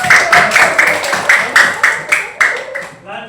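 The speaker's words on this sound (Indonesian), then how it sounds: "Oke, tepuk tangan untuk kelompok." Classroom applause for a student group, with rhythmic, roughly unison clapping from students in a pattern of evenly spaced bursts, mixed with voices and fading at the end.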